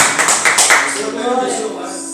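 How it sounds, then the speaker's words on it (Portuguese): A church congregation claps briefly during a sermon, a short burst of close, sharp hand claps that quickly fades into a lingering reverberant tail. "Dê uma grande salva de palmas para o Espírito Santo de Deus que se faz presente nesse lugar."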